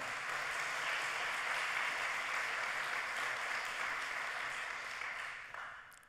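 A congress audience applauds in a dense, steady wash of clapping that holds evenly for several seconds before tapering at the end, somewhat distant and with no voice over it.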